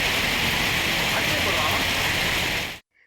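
Dense, steady roar of heavy rain pouring over a city, loud and unbroken before cutting off abruptly.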